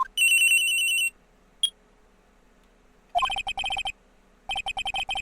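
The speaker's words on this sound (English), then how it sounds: "I received a call on my cell phone." Cell phone ringtone in the Phoenix Wright Trilogy game: a short electronic chime, a single blip, then rapid pulsing beeps in two bursts, loud and clean with no talk.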